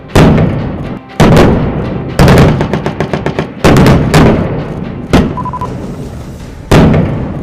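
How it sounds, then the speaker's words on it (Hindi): Heavy artillery guns fire in a joint Indian and US Army exercise in the desert near Bikaner: about seven loud, booming blasts at irregular intervals, each trailing off in a long rolling echo. "रेगिस्तान पर गरजती तोपों की गूंज"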